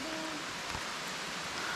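Heavy rain falls steadily near a river at an outdoor retreat, a dense, even hiss with no voices over it.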